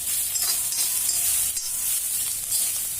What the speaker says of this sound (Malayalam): അതിൽ സവാള, ഇഞ്ചി, വെളുത്തുള്ളി, പച്ചമുളക് ഇട്ട് വഴറ്റി എടുക്കുന്നുണ്ട്